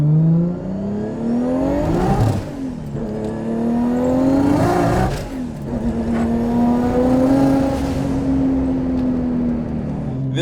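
Nissan Skyline R33 GT-R with a big turbo making roughly 800 horsepower, its engine roaring loud and close as it revs and pulls hard through the gears on a mountain road in Tokyo, pitch rising and dropping with each shift.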